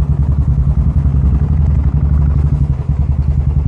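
A Royal Enfield Classic 350 motorcycle engine thumps steadily at cruising speed, a dense low rumble with rattling clatter filling the whole stretch, close and loud with no speech.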